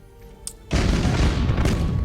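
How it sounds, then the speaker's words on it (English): Broadside macro cannons fire in a space battle in Battlefleet Gothic Armada, with a short blip followed by a sudden loud, sustained roaring boom of heavy gunfire. "Broadside macro cannons ready to fire on your order"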